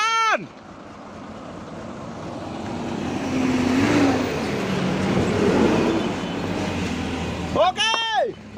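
An engine roars in a sustained, rising and falling drone while a truck hauls a box truck out of a deep roadside ditch, fairly loud and steady, with people talking briefly at the start and end.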